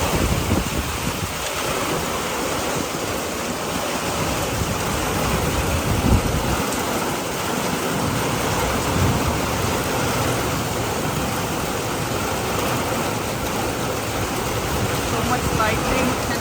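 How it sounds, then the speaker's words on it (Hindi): Heavy rain pours down at night outside a home in New York City, a steady broad roar and wash lasting throughout, with someone talking over it; no distinct thunder claps stand out. "So much lightning and heavy rain"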